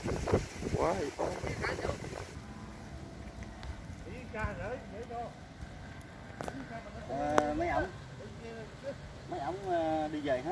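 Gusty wind buffets the microphone outdoors during kite flying, rumbling in uneven surges while people talk throughout.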